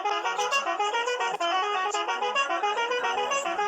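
A continuous synthetic car horn in a video game blares steadily, a bright electronic honk held with slight pulsing for a few seconds.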